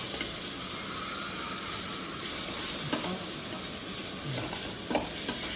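Egg being stirred as it fries in a hot pan, a steady close sizzle with occasional soft scrapes and taps of the spoon, continuous throughout with no talking.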